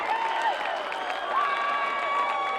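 A high school football crowd at Snow Canyon vs Ridgeline cheers after a 38-yard first-down catch on third and 20: a steady, dense roar of voices and applause held at an even level throughout.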